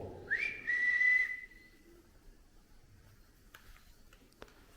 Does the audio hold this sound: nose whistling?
yes